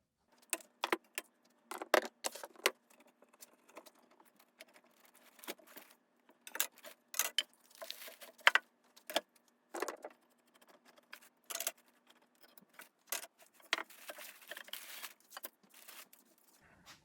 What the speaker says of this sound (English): try to clamp these together so we don't get any movement that way